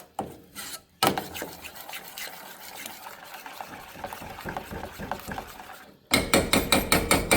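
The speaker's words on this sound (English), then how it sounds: "Mix this together till our cheese is nice and melted and smooth." A spoon stirs melting cheese sauce in a pan, giving continuous soft scraping and clinking with a wet texture. A sharper, rhythmic knocking run follows at the end.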